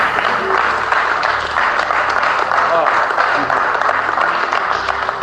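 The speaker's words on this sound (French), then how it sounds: "Applaudissons encore pour le Seigneur." A church congregation claps steadily and loudly throughout, a continuous dense wash of applause with voices and cries mixed in, as if talk and exclamations carry over the clapping.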